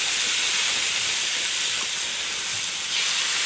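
Chicken sizzles loudly in olive oil on a hot grill at about 550 degrees, a steady broad hiss with faint crackles and no voices.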